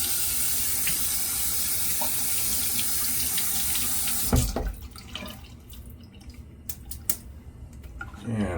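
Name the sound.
water running from tap to wet a shaving brush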